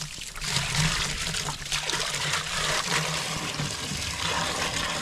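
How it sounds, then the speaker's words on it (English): Water pours into a big mixing bucket for chimney mortar, a continuous splashing, trickling fill lasting several seconds, close and moderately loud. "First thing to go into the bucket is the water."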